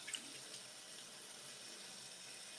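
Tap water runs steadily from a faucet while a razor handle is rinsed, a soft continuous hiss with faint splashes, moderately quiet and alone without talk.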